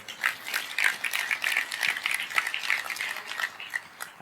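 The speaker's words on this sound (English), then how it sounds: "give yourself a round of applause for showing up here today" A conference audience applauds together, a dense, steady patter of many hands clapping in a hall, moderately loud and unbroken, with no voices on top.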